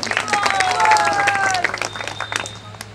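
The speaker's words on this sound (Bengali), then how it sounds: "সবাই একটু হাততালি দিন ওদের জন্য" An audience at a Harikatha religious discourse claps in a brief burst of scattered applause that continues for several seconds, with a few shrill tones mixed in.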